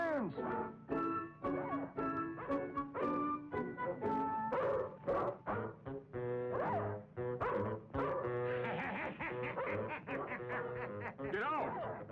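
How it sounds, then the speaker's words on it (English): A family dog set on Santa Claus in a Santa Claus film barks in repeated sharp yips and woofs, mixed with film music and voices. "Pitch sicks the family dog on Santa, sending him up a tree."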